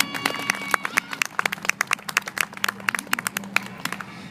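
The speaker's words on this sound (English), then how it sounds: "Let's give them a round of applause" An audience at a Balintawak arnis martial arts demonstration at the Solano County Fair claps after the performance, with a steady run of sharp, scattered handclaps from a modest crowd, fairly close and without talk.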